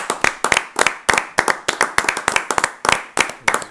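A church audience claps in acclaim, a brisk uneven run of loud close hand claps with slight rhythmic grouping and no talking.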